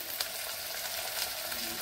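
Onion, curry leaves and asafoetida fry in hot oil, giving a brief, steady close sizzle and crackle with faint stirring, and no one talking.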